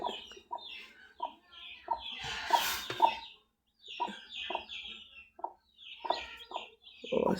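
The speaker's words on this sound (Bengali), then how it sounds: "এই দেখো মুরগি আর এই দেখো বাচ্চা ছোটো ছোটো বাচ্চা আছে" A hen clucks in short bursts with her small chicks' higher, thin peeps mixed in, close by and fairly busy, with brief gaps between clusters of calls.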